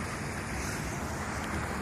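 Water rushes steadily through a bypass canal feeding a river in Ottawa in winter, a continuous close, even roar of flowing water with no voices.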